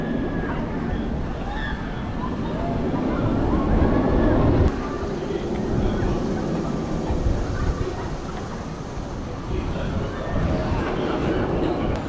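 The Pantheon roller coaster at Busch Gardens Williamsburg rides on: a continuous close rumble of train wheels on track mixed with strong wind buffeting, with some crowd voices underneath.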